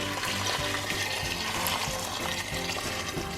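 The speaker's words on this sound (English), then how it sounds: "And now I'm just going to add in my boiling water" Boiling water pours steadily into a pan in a continuous, close gush that lasts the whole time, with no talking.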